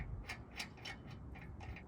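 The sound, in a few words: lug nuts being removed from a car wheel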